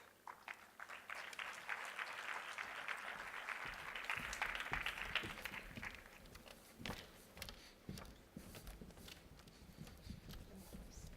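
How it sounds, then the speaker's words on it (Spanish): Applause from an audience for panel guests at a corporate diversity and technology event; moderate clapping swells and then thins into scattered claps and room noise, fairly quiet overall. "Por favor, un aplauso para ellos."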